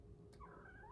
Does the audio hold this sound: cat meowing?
yes